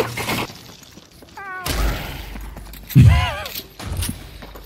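Gunfire in the video game The Cycle: Frontier, with sharp bursts of shots near 1.7 and 3.9 seconds, heard among excited players talking over team chat.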